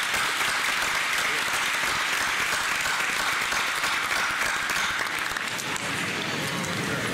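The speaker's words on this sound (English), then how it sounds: "Let's give these dedicated professionals a round of applause as well." A commencement audience applauds continuously, a dense wash of many hands clapping at steady volume throughout.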